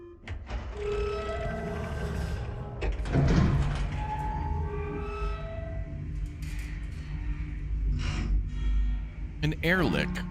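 Airlock door in a sci-fi survival video game cycling through its sequence, a mechanical whirring and hissing bed with a sharp burst near the middle and a rising electronic sweep at the end, loud and close.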